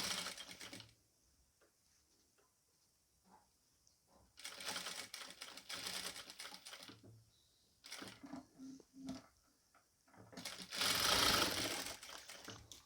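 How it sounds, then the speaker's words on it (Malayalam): A sewing machine stitching the folded neck of a nighty runs in three quick bursts of close, rapid mechanical chatter, with quiet pauses between runs. "അടുത്ത വശം കൂടി നമുക്ക് മടക്കി തയ്ച്ചു കൊടുക്കാം"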